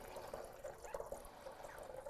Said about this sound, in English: I'll just go ahead and pour a little bit of water in there